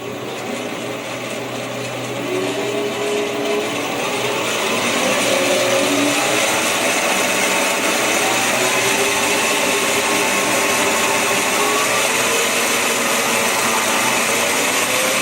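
A PM 1228 metal lathe running forward in low gear at slow spindle speed, giving a steady loud mechanical whine and hum that builds slightly after the first few seconds and then holds constant.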